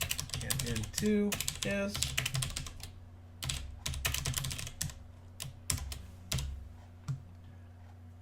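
Bursts of close, crisp keystrokes on a computer keyboard while writing Rust code, clicking in quick clusters with pauses between, and a few spoken words over the typing.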